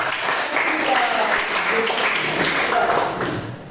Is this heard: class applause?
yes